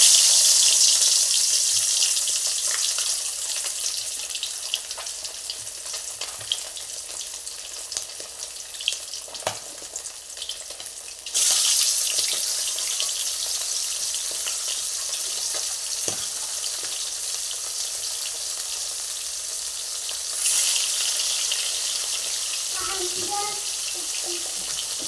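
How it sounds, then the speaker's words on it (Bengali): Fish fries in hot oil in a home kitchen, a loud continuous sizzle with scattered pops that jumps in level twice as pieces go in or move, and faint clinks near the end. "মাছগুলো আগে ভেজে নিচ্ছি"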